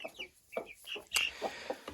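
Young Cuckoo Marans and other hens cluck close by, a run of soft, short, irregular clucks and chirpy calls with one sharper squawk in the middle.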